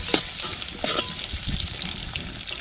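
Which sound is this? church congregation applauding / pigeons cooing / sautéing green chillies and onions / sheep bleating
sautéing green chillies and onions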